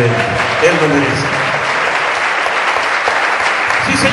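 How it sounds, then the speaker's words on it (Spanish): Enthusiastic applause from a church congregation at a worship event, steady and dense clapping filling the room for the full span without a break. "Vamos a dar un gran aplauso al Espíritu Santo que ha hecho posible este gran evento."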